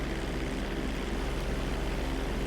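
A hurricane hunter plane in GTA 5 climbing after takeoff, its steady propeller engine drone filling the cabin with a constant low hum throughout.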